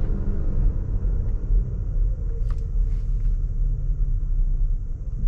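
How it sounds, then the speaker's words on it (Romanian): A car slowing under engine braking and regenerative braking while driving, a steady low rumble and road noise running loud and close throughout, with a couple of faint brief higher clicks partway through. "Uite ce frână de motor îți dă și regenerare și frână de motor în același timp."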